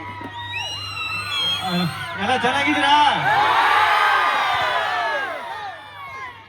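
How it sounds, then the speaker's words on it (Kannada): A large outdoor crowd at the Budanur festival cheers, whoops and yells, swelling to a loud, sustained roar in the middle. A voice speaks to the crowd over the noise. "ಈ ಪ್ರೀತಿಯ ಚಪ್ಪಾಳೆ ಕೂಗಿದೆ"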